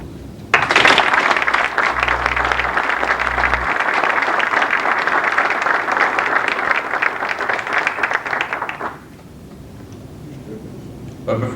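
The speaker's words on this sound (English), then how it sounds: "Round of applause." Audience applause at an Air Force unit deactivation and retirement ceremony, a steady dense round of clapping lasting about eight seconds before fading, with a low tone briefly beneath it early on.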